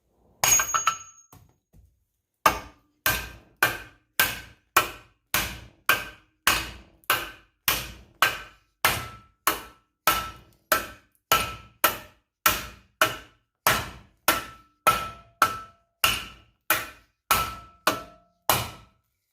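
A hammer strikes a hub assembly on a 1990–93 Honda Accord about thirty times as it is pounded out, each ringing metallic blow coming at an even pace. The blows are close, sharp and sound alone.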